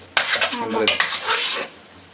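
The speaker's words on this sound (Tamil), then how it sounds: "எடுத்துட்டு இப்படி கிண்டு கிண்டு கிண்டணும் இதுக்கு பேர் தான் பொங்கல்" Pongal being stirred in a pot, a spoon scraping and knocking against the metal in a few quick strokes over about a second and a half, then fading to quiet.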